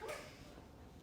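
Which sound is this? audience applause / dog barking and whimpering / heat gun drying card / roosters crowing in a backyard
dog barking and whimpering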